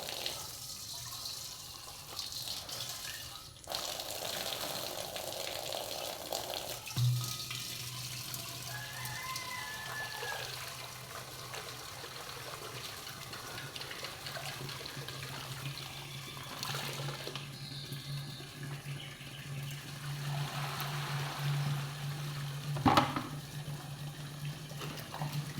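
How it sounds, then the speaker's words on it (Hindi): Water runs from a tap into a container in a village home, a steady hiss and gurgle that carries on for a long stretch, with a few knocks and clanks mixed in. "तो अभी मैं पानी भरूंगी गाइस।"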